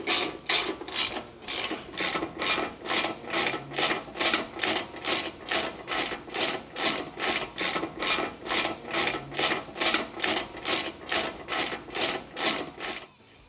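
A ratchet snugging down brake caliper mounting bolts on a 2016 Victory Cross Country motorcycle, clicking in a steady, even rhythm of about two strokes per second, close and loud with no speech.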